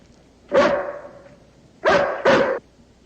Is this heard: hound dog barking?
yes